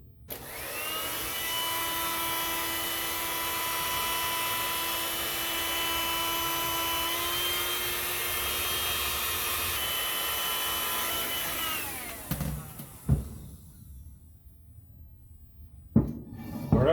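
Heat gun warming the glue under a decal on a YZ490 swingarm, a steady loud whining blower drone that winds down and stops, followed by a few clunks.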